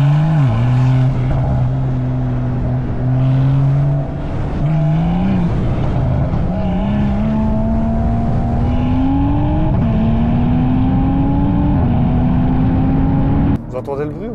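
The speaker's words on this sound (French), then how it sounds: "On m'a autorisé à mettre des petites accélérations à la limite du raisonnable." A stage 2 tuned BMW 340i accelerating in a series of pulls, its loud engine tone rising through each gear with brief dips at the shifts, heard from inside the car.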